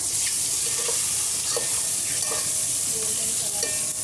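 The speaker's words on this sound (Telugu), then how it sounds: "ఇందులో 5 ఎగ్స్ బాగా రోస్ట్ చేయాలండి." Five eggs roasting in hot oil with salt and chilli powder in a pan for egg biryani, a dense steady sizzle with soft stirring scrapes throughout.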